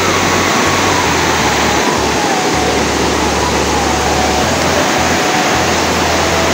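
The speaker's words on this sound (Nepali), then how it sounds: "पानी परे को परे गरेर कत्रो आएको खोला।" A rain-swollen river churns past beneath a damaged suspension footbridge, a loud, continuous broadband roar of rushing water that stays unbroken, with a faint low rumble now and then underneath.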